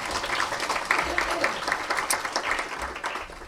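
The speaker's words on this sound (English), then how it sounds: "so round of applause." Audience applause at a university lecture event, steady clapping from a crowd lasting a few seconds, fairly loud and continuous with overlapping claps.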